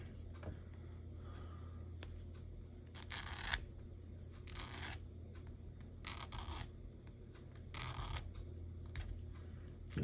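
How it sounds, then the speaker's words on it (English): Flat file rasping the rough cut edges of a rear axle pin, several short scraping strokes in separate bursts over a low steady background hum. "Take a flat file, follow a small point, trying to get the rough edges off the side of the pin"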